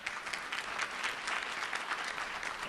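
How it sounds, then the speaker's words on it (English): Steady audience applause at a school district board meeting, a fairly faint, even patter of many hands clapping with no talking. "Let's give them a round of applause."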